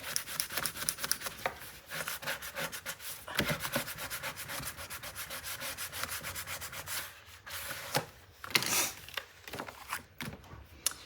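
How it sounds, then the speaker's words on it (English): A paper craft panel for a Christmas album is burnished from the reverse side with rapid, scratchy back-and-forth rubbing strokes, close and continuous, with brief pauses between passes. "easier to burnish from the reverse side"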